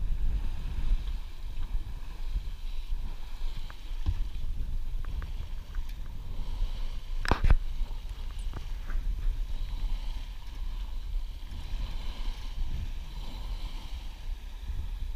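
Moody 29 sailboat under way back toward La Rochelle, steady wind rush and low hull and water wash throughout, with a brief louder knock midway, no talking.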